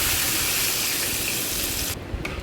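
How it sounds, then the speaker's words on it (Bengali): Water pours into a cooking pan of spiced jackfruit seed curry, a loud steady gushing stream that cuts off near the end, leaving brief splashes and drips. "এবার এর মধ্যে জল ঢেলে এটাকে একটু ফুটিয়ে নেব।"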